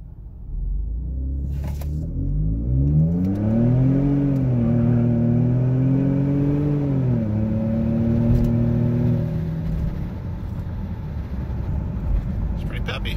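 A tuned 2014 Ford F150 Tremor pickup accelerates hard from 0 to 60, its engine rumble rising through several gear shifts for about ten seconds before easing off, heard from inside the cab.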